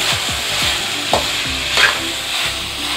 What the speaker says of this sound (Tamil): உப்பு சேர்த்து நல்லா வதக்கிக்கலாம்